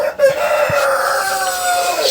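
A large, fast-growing rooster of about four kilograms in a rooftop poultry setup crows loudly and close by, one sustained call with a few clucks around it, and no talking.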